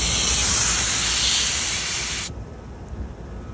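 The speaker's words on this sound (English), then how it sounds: "I need to bleed this air out of this hose" Air bleeds out of a refrigerant recovery hose in a loud, close, steady hiss for about two seconds before it cuts off abruptly, leaving a low rumble.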